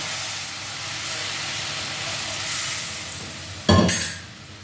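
Leafy greens (shak) frying in a pan with a steady loud sizzle, then a sudden sharp hiss and crackle as a splash of water is added, fading back down.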